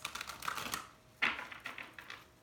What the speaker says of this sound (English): So let me go ahead and shuffle these about 3 times before we really dive into this.